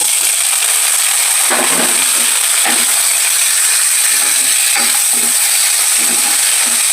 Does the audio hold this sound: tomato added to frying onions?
yes